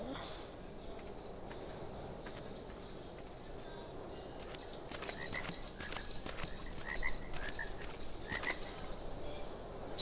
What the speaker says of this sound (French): Les grenouilles.